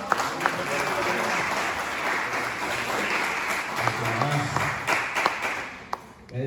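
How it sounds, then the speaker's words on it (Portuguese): A church congregation applauds in a dense, sustained wash of clapping, with a few sharper claps and voices mixed in before it thins out near the end. "e as palmas para o Senhor"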